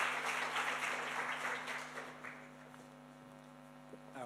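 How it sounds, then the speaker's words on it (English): Audience at an I&M Foundation five-year anniversary event applauds a speaker, a moderate wave of clapping that fades out after about two seconds, leaving a quiet room with a steady electrical hum. "Let's give him a warm round of applause as he kicks this off for us"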